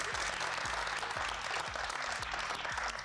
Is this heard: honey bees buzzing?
no